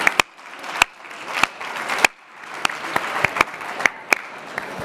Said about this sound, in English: Let's give one more bit of applause to the Vodafone awardees